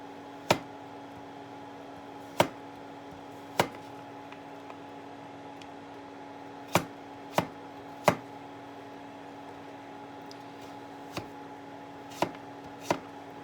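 A knife cuts food into small pieces for daal with cauliflower, sounding as sharp, sparse taps on a cutting board at irregular intervals over a steady low hum, close and distinct.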